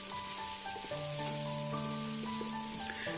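Ginger, garlic and shallots sauté in a pan with a steady, close sizzle and faint stirring, no talking.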